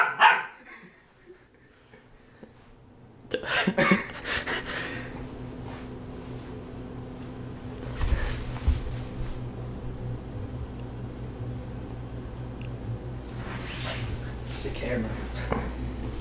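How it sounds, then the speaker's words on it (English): A puppy barks in a few short bursts amid people talking close by, with handling noise and movement around it; the yips come irregularly rather than in a steady rhythm. "Puppy."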